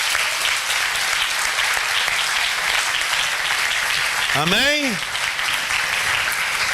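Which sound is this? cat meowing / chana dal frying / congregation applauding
congregation applauding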